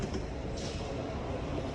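Metro train rumbling through a deep underground Soviet-era station in Almaty, a steady dense roar of wheels and carriages, moderately loud and continuous without talking.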